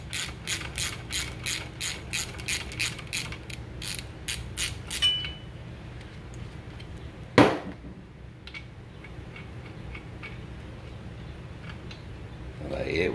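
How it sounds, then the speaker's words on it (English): Bolt being backed out with a ratchet on a 2017 Yamaha 115 SHO outboard engine during a 200-hour service: a fast run of crisp pawl clicks for about five seconds, a sharp knock, then quieter mechanical creaks and handling noises. "Now I'm taking the bolt out that's bolted up into there."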